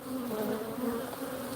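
Honey bees, a feisty colony in an open hive box, drone in a steady, close buzzing hum that holds level throughout with no voices.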